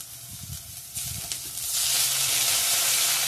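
Ginger sizzles as it fries in hot oil with whole cumin, dry red chilies and bay leaf, a steady close hiss that swells louder after a short quieter start, with no talking.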